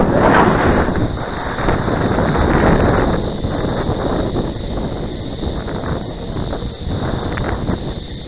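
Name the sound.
wind blowing at the flying field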